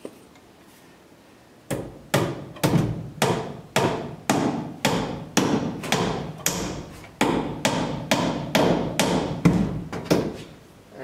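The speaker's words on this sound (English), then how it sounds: "because my hammerhead keeps bouncing off the wall, so that I can extend this out by putting this in the back on the nail and then just hit my pliers" A hammer strikes the back of pliers to drive a nail into a wall, giving about fifteen sharp, close metallic whacks in a steady rhythm, each with a short ringing decay, with no talk.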